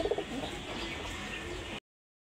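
Pigeons offered for sale in pairs coo softly in short bursts at the start, over a steady background hiss, before the sound cuts off abruptly.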